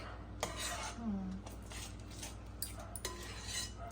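A metal spoon scraping and clinking against a pan while beetroot halwa is stirred, soft repeated scrapes with a few sharper clinks, faint and close, with a quiet voice briefly underneath.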